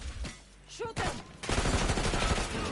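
Gunfire in a Black Ops 6 campaign fight, a loud dense burst of rapid automatic shots filling the second half after brief shouted voices and a couple of sharp single blasts.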